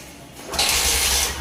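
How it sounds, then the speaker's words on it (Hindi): A new Honda Shine 125 motorcycle, BS7 E-20 model, is kick-started: a short mechanical clunk of the kick lever, then the engine catches into a loud, steady close idle. "सिर्फ किक मारिए गाड़ी स्टार्ट होगा"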